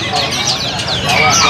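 White loper canaries at a Pramuka market bird kiosk give repeated high, sweeping chirps under someone talking nearby, the calls fairly clear behind his voice.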